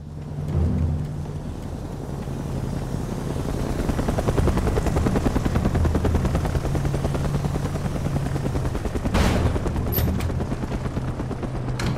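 In the video game Mercenaries 2, set in Caracas, a helicopter's rotor thumps steadily and loudly throughout, with bursts of rapid gunfire rattling along beneath it and a sharp crack near the end.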